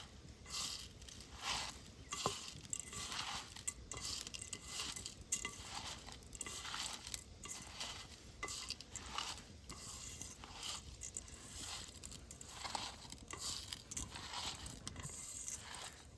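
A coconut and sugar mixture being stirred in a pot, with repeated soft scraping and clinking strokes in a steady rhythm, close and faint, with no talking.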